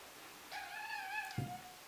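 A single clear, drawn-out meow from a house cat, close by and fairly quiet, followed by a soft thump.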